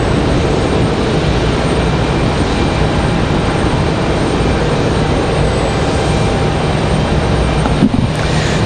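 Airliner arriving at Raleigh-Durham International Airport, a steady, loud broadband jet roar that holds constant throughout with no talk over it.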